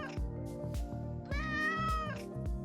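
A cat on a street on the Greek island of Patmos gives a few clear, close meows, a short pair first and then a longer, rising drawn-out cry, in an otherwise quiet setting.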